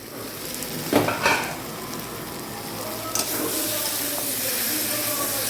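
Spice masala sautés in a pan for a katla fish curry with potato and eggplant, a steady hissing sizzle with a few sharp utensil scrapes near the start.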